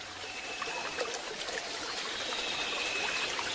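A river stream flows steadily as a sound effect in an animated children's fable, a continuous bright rushing and trickling of water with no voices over it.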